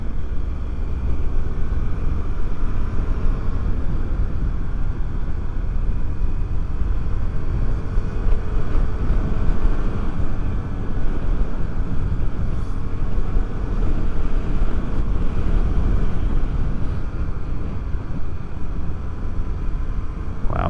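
A 2023 KTM 390 Adventure motorcycle rides steadily along, its engine drone blended with heavy, constant wind rush that stays loud and unbroken throughout.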